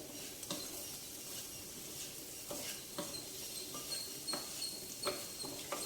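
Beans and carrot curry with fresh grated coconut frying in olive oil, a soft steady sizzle with intermittent scraping stirs of a spoon against the pan, close and fairly quiet.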